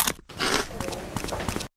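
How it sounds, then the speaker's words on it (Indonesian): A short crisp crunch and crackle of Potabee V-cut zigzag potato chips with grilled seaweed bits being bitten, close and loud, a few sharp snaps over about a second and a half. "Potabi, kriuknya pecah."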